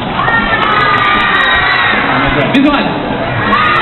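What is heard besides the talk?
children screaming and cheering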